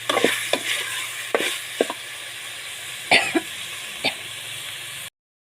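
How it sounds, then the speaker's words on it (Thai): Steady frying hiss with a low hum beneath as chicken is stir-fried in a pot, broken by several sharp scraping clanks of a utensil stirring, irregular and close. "ผัดไก่ก่อนนะคะผัดไก่ให้ยวนไก่ให้หอมก่อน"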